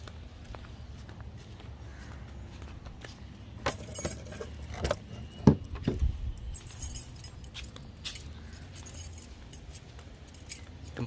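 Keys jangle close by in a Toyota LiteAce camper van, with clinks and metallic rattles that come in bursts, plus a few handling knocks and a sharper clack mid-way.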